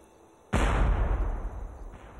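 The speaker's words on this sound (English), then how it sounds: "A shot rang out." A single loud gunshot sound effect in a documentary about a Sioux confrontation with the cavalry, bursting in sharply after near silence and rolling off into a long decaying rumble.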